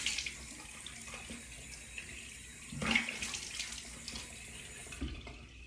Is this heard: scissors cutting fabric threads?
no